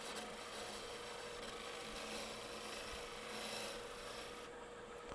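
A turning tool slices into spalted maple on a lathe for a natural-edge calabash hollow form, giving a continuous close rasping, scraping cut over the steady hum of the spinning lathe, with no talk.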